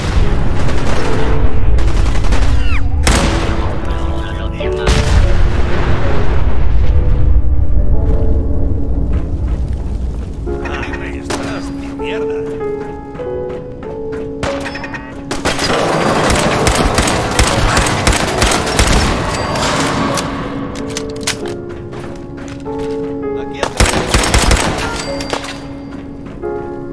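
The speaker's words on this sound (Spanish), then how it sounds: "fuegos artificiales!" Fireworks burst and crackle in the Fallout 4 video game, a dense run of loud booms and sharp pops over about half a minute, with heavier blasts early and scattered crackling volleys later against background music.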